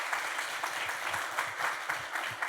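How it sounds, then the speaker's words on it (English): Audience applause after a screening-and-conversation stage event, a steady dense wash of clapping with no voices over it throughout. "round of applause."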